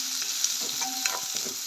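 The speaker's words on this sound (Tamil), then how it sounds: "எல்லாம் தாளிப்பு தான்." Spices sizzling as they are tempered in hot oil for a Jaffna-style curry, a steady broadband hiss with small crackles and pops, close and continuous, without any talk.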